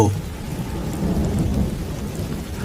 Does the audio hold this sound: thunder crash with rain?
yes